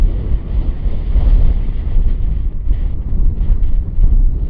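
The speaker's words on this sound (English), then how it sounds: "It is still quite windy outside" Strong wind blows outside a parked camper van on a road trip, buffeting the microphone with a loud, uneven low rumble that swells and dips throughout, with no speech.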